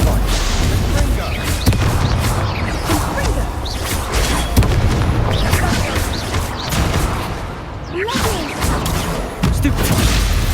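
Fire spell combat in the video game Hogwarts Legacy, with repeated bursts, whooshes and impacts crackling in a busy, loud sequence while a voice speaks over the action.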